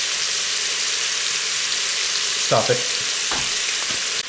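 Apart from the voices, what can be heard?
beef searing in an Instant Pot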